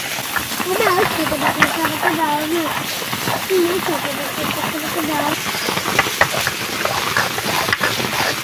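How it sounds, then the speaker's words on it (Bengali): Pond fish fry in mustard oil in a kadai until reddish, a constant close hissing sizzle running underneath a person talking throughout. "বন্ধুরা মাছগুলো লাল লাল করে ভাজা হয়ে গেছে"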